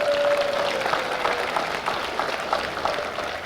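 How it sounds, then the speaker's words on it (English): An audience applauds at a college athletics honors program, with a steady patter of clapping that gradually thins over a few seconds in a large room. "Give them a round of applause, please."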